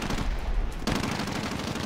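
Rapid automatic gunfire in the shooter video game Warzone, a loud close burst of fast repeated shots that cuts off briefly and then resumes.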